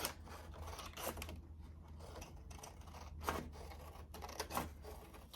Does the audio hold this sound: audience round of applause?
no